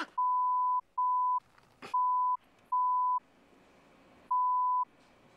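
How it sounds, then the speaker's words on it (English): Censor bleeps laid over television cast outtakes, five steady mid-pitched tones of about half a second each, loud and evenly spaced, with faint muffled voices and noise in the gaps between them. "You'll hear lots of beeps of Lisa Ryder messing up."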